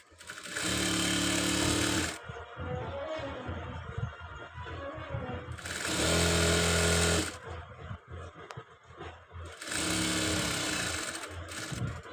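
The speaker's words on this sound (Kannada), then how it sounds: "ಮತ್ತೊಮ್ಮೆ ಫೋಲ್ಡ್ ಮಾಡಿ ಇದನ್ನು ಸ್ಟಿಚಿಂಗನ್ನ ಫಿನಿಶ್ ಮಾಡಬೇಕು" A sewing machine stitches the hem of a katori blouse in three loud, fast-whirring bursts of about two seconds each, separated by quieter pauses with fabric handling.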